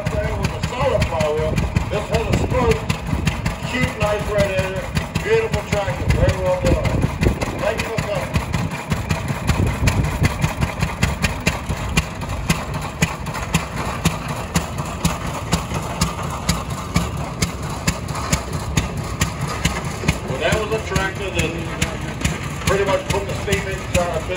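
An old spoke-flywheel engine runs at a power parade with a steady, chugging idle rhythm that carries through the whole stretch, under crowd noise and someone speaking close by.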